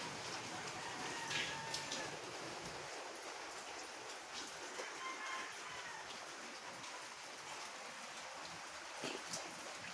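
Steady rain hisses continuously on a roof with a hole in it, a dense wash of noise filling the scene with a few faint scattered sounds underneath and no clear talk.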